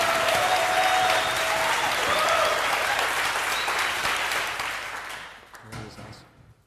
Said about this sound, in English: With a huge round of applause for Oliver Strand